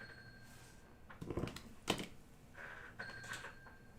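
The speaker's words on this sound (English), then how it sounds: "My phone is actually going off." A mobile phone goes off indoors, its faint electronic ringtone rising in short tonal bursts with a couple of clicks and knocks in between, quiet and close, with no one talking over it.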